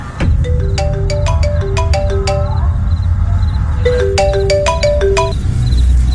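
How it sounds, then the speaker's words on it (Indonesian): A telephone rings with a loud melodic ringtone whose repeating chime pattern plays twice over a constant low background hum, with no voices. "Sampai ada yang menelpon Om Ivan."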